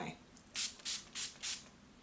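A wet n wild Photo Focus setting spray pump bottle gives four quick, even hissing spritzes in a row, close and soft, with quiet pauses between them.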